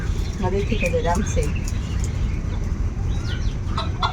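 Chickens cluck in short bursts against a steady, noisy outdoor background, with faint voices in the mix.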